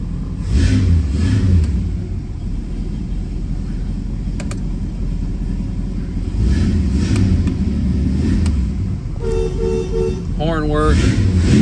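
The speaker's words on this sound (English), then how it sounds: "Horn work." A 1970 Ford Torino GT 429 sits running with a loud idling rumble, then near the end its horn sounds in a couple of brief, close blasts, with a voice speaking around them.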